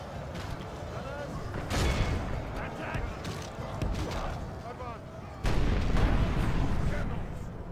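Empire mortar batteries fire on Orcs and Goblins in a Warhammer battle game, with repeated booming artillery blasts and battle din swelling into a heavier barrage near the end, while someone talks over it.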